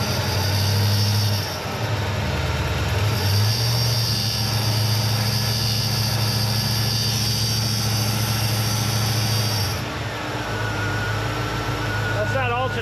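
A Ford F100 engine revs hard with an aftermarket alternator whining over a loud, steady drone that holds for several seconds before easing back.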